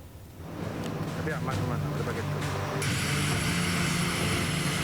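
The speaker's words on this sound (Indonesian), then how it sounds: "Dua pesawat Hercules membawa bantuan mendarat di Bandara Internasional Minangkabau, Padang, Sumatera Barat." Hercules transport aircraft carrying disaster aid landing at Minangkabau International Airport in Padang, West Sumatra. The propeller engine drone swells from quieter to a loud, steady roar.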